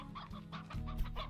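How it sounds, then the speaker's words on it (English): Chickens in the Slime Rancher video game cluck in a soft, steady stream of short, bright calls, close but quiet, with no talk over them. "Oh, and chickens as well."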